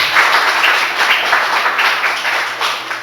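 A church congregation claps for Jesus during worship, a fairly loud, steady burst of many hands with a faint pulsing rhythm, lasting about three seconds.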